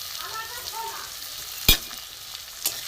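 Chopped onion, tomato and crushed whole garlic frying in a pan with spices, a soft steady sizzle broken by a sharp clatter of stirring and a smaller knock near the end.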